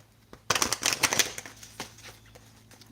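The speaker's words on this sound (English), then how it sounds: "Let's go ahead and shuffle." Kipper cards being shuffled by hand, a close, crisp flurry of rapid papery riffles and taps that starts abruptly and trails off into lighter rustles.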